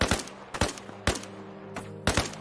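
Gunfire in the ARMA Reforger video game: four sharp, loud shots spaced about half a second apart, each with a short ringing tail over a low background hum, without talking.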